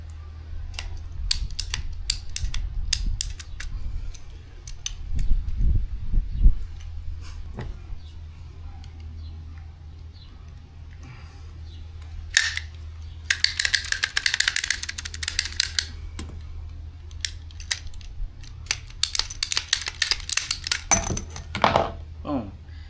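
Hose cutters snipping through sprayer hose while assembling a North Star 26-gallon pump sprayer, heard as a brief cluster of sharp clicks and snaps over a low steady hum, with scattered small handling clatter.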